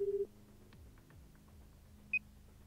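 Phone dialing tones in the video game AI: The Somnium Files, a short run of quick repeated beeps at the start followed by a faint low hum and one brief high beep later, quiet and with no talking.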